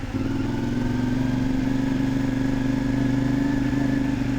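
A CF Moto 450 MT motorcycle engine drones steadily while riding. The low, throbbing tone holds even and fairly loud throughout, with no talk.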